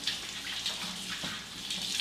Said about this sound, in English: or at least rinse my hands off.